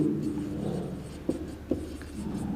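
Pen writing on paper during an eighth-grade math lesson on indices and roots, a quiet scratchy scribble with two sharper taps, close and alone, no talk.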